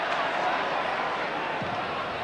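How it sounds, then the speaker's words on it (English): A large crowd at a 1993 AFL football match between Hawthorn and Adelaide roars in a steady, broad wash of noise reacting to the umpiring, loud and continuous throughout. "The crowd haven't liked the umpiring tonight."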